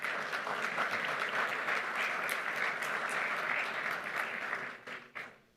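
Audience at a United Nations Development Programme launch event gives sustained, even applause, a full crowd of clapping that holds steady and then fades out with a few last claps near the end.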